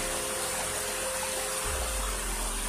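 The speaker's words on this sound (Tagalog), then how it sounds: "galing sa bundok yung tubig na yun mga kamaster" Mountain water flowing in a steady, full rushing hiss, with a low rumble rising underneath partway through and no one speaking.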